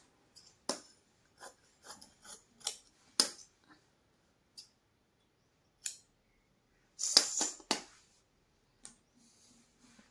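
Scissors snip through blouse fabric in short, crisp bursts at an irregular pace, close and quiet, with a few longer rasping cuts and no talking.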